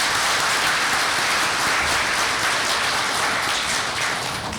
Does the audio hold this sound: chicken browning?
no